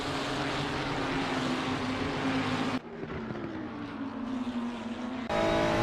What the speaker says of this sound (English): It's going to be mighty loud over the engine of that Ferrari.